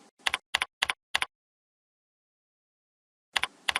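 Clicky computer keyboard typing, close and quiet: a quick burst of five keystrokes, a pause of about two seconds, then two more taps.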